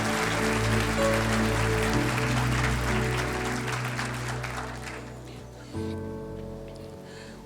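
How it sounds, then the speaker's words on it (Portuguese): A church congregation applauds during a sermon, a dense, steady patter of many hands over sustained organ-like music that gradually thins and fades near the end. "Mistura o aplauso com glória a Deus,"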